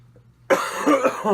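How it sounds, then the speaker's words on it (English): After a brief quiet moment, a person coughs harshly several times in quick succession, close and loud. "I'm just choking up a storm over here. Cough, cough, gag, gag."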